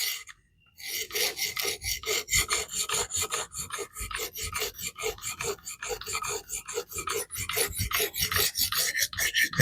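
A knife blade is stroked repeatedly across the plates of an Xarilk portable fixed-angle sharpener, producing a rapid series of close, rhythmic rasping scrapes after a short pause, with no talking.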